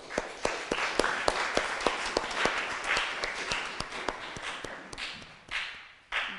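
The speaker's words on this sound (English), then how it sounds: "please give them a round of applause" Scout troop audience at a Court of Honor clapping steadily, a moderate indoor round of applause with distinct individual claps, thinning out and fading toward the end.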